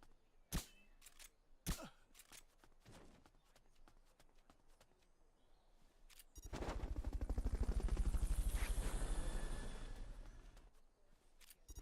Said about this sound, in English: recovery subject confirmed onboard helicopter. Fulton recovery helicopter is complete.